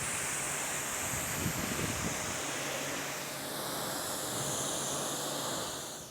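A steady, loud rush of spraying water rinses a Mercedes AMG GTS during its first wash, running continuously and close by with no voices.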